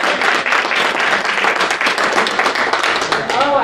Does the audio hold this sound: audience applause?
yes